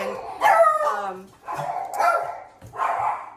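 Dogs bark in a few short bursts at moderate distance, loud against a quiet background with gaps between the barks.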